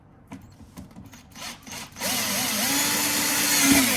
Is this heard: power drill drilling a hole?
yes